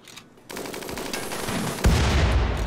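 Rapid gunfire in the colony game RimWorld: a quiet lead-in, then a sustained burst of automatic shots, with a heavier blast near the end keeping the barrage loud and dense.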